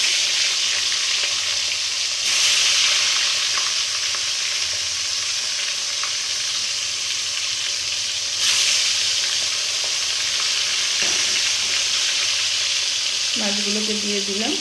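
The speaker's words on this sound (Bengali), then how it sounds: "এই যে কড়াই তেল গরম হয়ে গেছে, এবার আমি এর মধ্যে দিয়ে দিচ্ছি মাছগুলোকে।" Pieces of rohu fish drop into hot oil in a kadai and fry with a loud, continuous sizzle that surges as each batch goes in. A faint clink sounds near the end.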